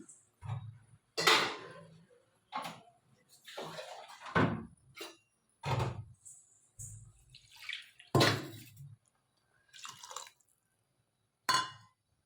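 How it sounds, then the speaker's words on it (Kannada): Water splashes and pours in several separate bursts with quiet pauses between, close by, sloshing into a cooking pot of simmering curry. "ಇನ್ನೊಂದು ಸ್ವಲ್ಪ ನೀರು ಹಾಕ್ಕೊತೀನಿ"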